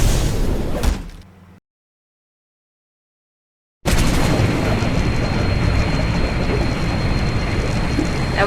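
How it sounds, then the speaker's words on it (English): A plane crash explosion in the survival game Stranded Deep: a loud rumbling roar cuts to sudden silence, then a heavy broadband blast and continuing debris-filled rumble carry on loudly to the end. "The devastation and the explosion was all I remember"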